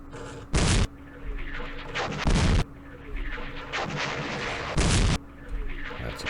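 Tanks fire in the Campaign Series West Front wargame at Aachen on the West Wall, four loud booming shots spaced about every one to two seconds over a steady low background hum.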